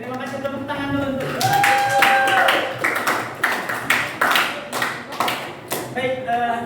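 A classroom of students claps hands in a few short rounds of sharp, uneven claps, mixed with a teacher's voice speaking over and between them.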